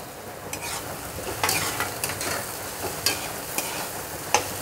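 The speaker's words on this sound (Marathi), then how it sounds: "कांदा टाकू, आता आपण हिरवी मिरची टाकू" Onion and green chili sauté in a pan for a spicy rava dish, a loud, continuous sizzle broken by repeated spatula scrapes and stirring strokes at an uneven pace, close up and without speech.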